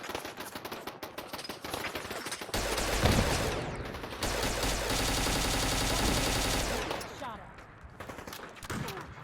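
Pipe gun firing in Fallout 4, bursts of rapid gunfire that swell loud and sustained through the middle of the clip over game ambience, with a voice briefly audible.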